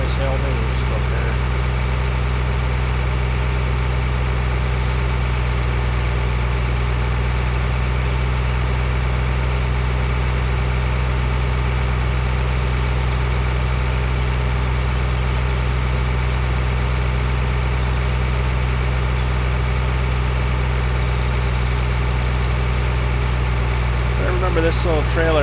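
A tractor engine in the 2013 Farm Simulator game idles and runs at a steady, loud, droning level throughout, with a constant low rumble and no breaks, while a person talks over it.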